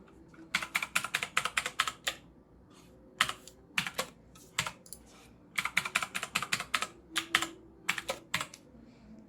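Login credentials being typed on a computer keyboard: close, crisp key clicks in quick bursts separated by short pauses, with no voices.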